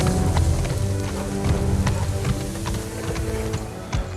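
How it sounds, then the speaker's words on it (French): Horse hooves clip-clopping in a steady, running rhythm, fairly dense and continuous across the few seconds, with no voices over them. "J'entends un cheval au loin."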